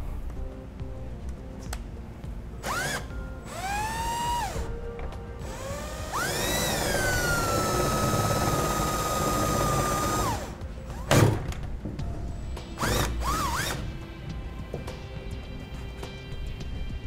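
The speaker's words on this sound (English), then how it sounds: "We're going to need to drill a hole through the wood on this one" A drill bores a hole through wood during installation of a 12V LED RV dome light, whining up and down in several bursts with pauses, one long steady run in the middle and ratchety clicks.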